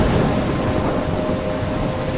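Thunderstorm in the video game Life is Strange: loud, close rumbling thunder over steady heavy rain, with a faint tonal hum running through the roar and no speech.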